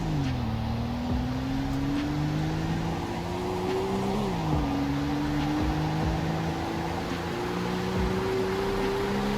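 A slow three-speed car in the Roblox game Greenville accelerates through a speed test, its engine tone climbing steadily, dropping at a gear shift, then rising again as a continuous loud drone with no talk.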